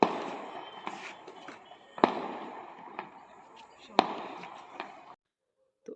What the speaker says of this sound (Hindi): तो आतिशबाजी हो गई है